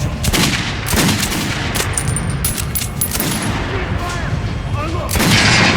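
Gunfire at an armored target in the video game Metro: Last Light Redux, with several loud sharp shots in quick bursts, metallic ricochet pings and a brief tinkle between them.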